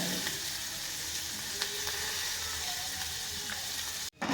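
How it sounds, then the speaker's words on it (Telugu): Chopped coriander and green chili sizzle in hot oil in a pan for an adai dosa breakfast, a dense, steady crackle up close with no talking, ending in a sharp knock. "ఇట్లా దూరగా వేయించుకోవాలండి"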